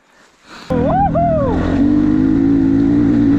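An off-road motorcycle at a quarry fires up, then revs: a sharp rising and falling engine whine settles into a loud, steady, close drone.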